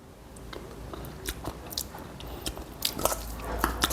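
Someone chewing a mouthful of kimchi seasoning mixed with sliced onion, close and soft, with irregular crunchy bites and wet squishing over a low background hum, no talking.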